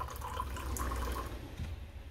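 Warm water is poured into a small vessel, producing a soft, close splashing trickle that runs steadily for a couple of seconds before tapering off.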